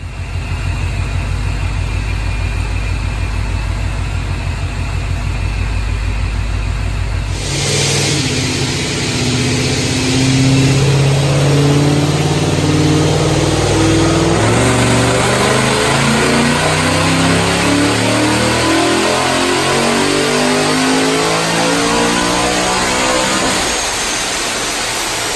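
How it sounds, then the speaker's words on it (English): Paxton Novi 2200 supercharged (Brenspeed Stage 3) 2015 Ford Mustang S550 with an automatic transmission on a dyno, idling before a loud sustained pull that climbs through the gears with rising engine and supercharger whine, then backs off at the end. "Watch this Dyno pull, let's look at the numbers."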